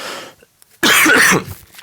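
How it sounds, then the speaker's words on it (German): A single loud, harsh cough bursts out after a short quiet pause, close to the listener, followed by faint breathing noise. "Jetzt muss ich kurz husten."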